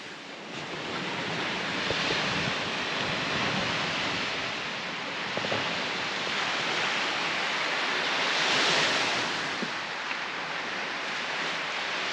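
Sea waves on a quiet Baltic Sea beach in Poland wash in a steady broadband roar, with wind noise buffeting the microphone and swells rising and falling, no voices.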